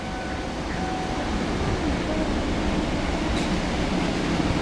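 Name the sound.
passing train, full rake in latest livery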